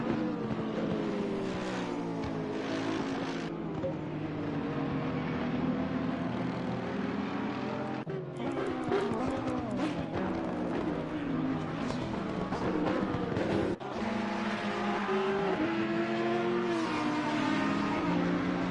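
GT3 race cars, Porsche and Mercedes AMG, racing at Zolder, with engines roaring steadily and close by, pitch rising and falling through gear changes, and a commentator talking throughout.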